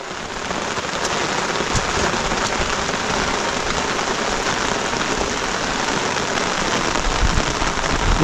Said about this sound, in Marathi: वरून पाऊस एवढा पडतोय